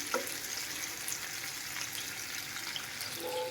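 Fish and sliced chillies frying in oil in a pan, a continuous low hiss and sizzle with a couple of faint clinks, steady and close with no talk.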